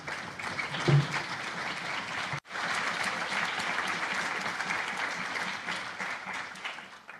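Audience applause at a European Parliament hearing, a dense, moderately loud wash of clapping that breaks off briefly and then resumes steadily before tapering.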